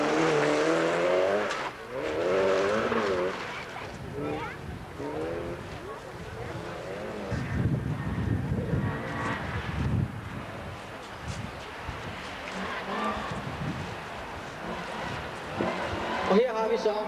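A rally race car sets off on its run around the track, its engine roaring and shifting while a commentator talks over it, with wind buffeting the microphone throughout.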